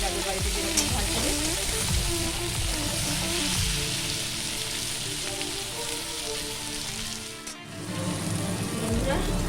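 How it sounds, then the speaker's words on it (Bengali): Vegetables frying in a pan for pui shaak with shrimp, a steady close crackling sizzle with small spits and pops, briefly dipping near the end as if stirred, no voice over it. "দেখুন সবজিগুলো ভালো করে ভাজা হয়ে গেছে"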